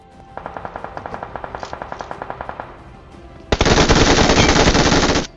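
Automatic rifle fire in PUBG Mobile, a rapid run of about twenty evenly spaced loud shots, then a pause and a longer dense roaring burst of fire lasting under two seconds.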